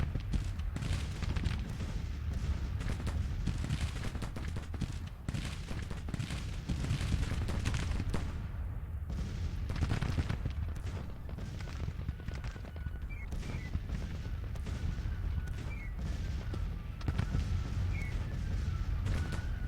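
Cannons firing in the Civil War strategy game Grand Tactician, with repeated booms and crackling volleys rolling over a dense battlefield din, some shots near and loud and others distant, continuing throughout.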